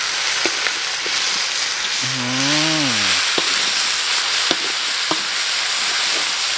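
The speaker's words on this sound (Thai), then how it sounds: "ผัดก่อนผัดก่อน" Stir-frying in a pan over a roaring wood fire outdoors in a forest kitchen for a Thai dish, with a constant loud sizzle and hiss, a few scattered scrapes and clinks, and a brief rising-and-falling tonal whine in the middle.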